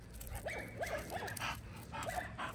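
A dog in a yard gives a few short, quick yips and barks mixed with whimpering, fairly close but not loud, in a brief run of calls.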